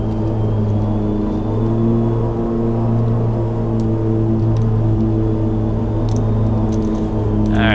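Turboprop engines in the X-Plane 10 flight simulator drone with a loud, constant tonal hum and layered harmonics, steady throughout with a few faint clicks near the end.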